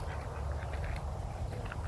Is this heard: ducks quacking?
yes